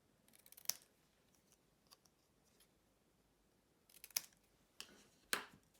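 Scissors trim a piece of stamped card-making paper, giving a few sharp, close snips with quiet pauses between them and no talking.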